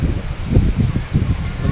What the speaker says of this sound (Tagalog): Sobrang hangin. Malamig ang hangin.